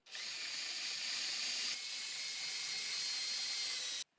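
A power drill whirs steadily at high speed for about four seconds drilling screw holes in a router table build, close and loud, then stops abruptly.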